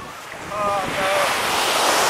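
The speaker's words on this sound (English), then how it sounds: "don't turn your back on the ocean, man." Ocean surf surges and crashes close by, a broad roaring wash that builds and stays loud, with heavy wind buffeting the microphone and a few faint tonal whines early on.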